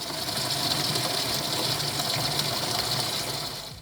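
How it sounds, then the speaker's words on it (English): Tap water rushes steadily from the outlet tube of a Delta Touch2O touchless kitchen faucet into a bucket, a loud, continuous close gush with no talking. "slowly turn on both my hot and my cold supply stops to allow water to start running"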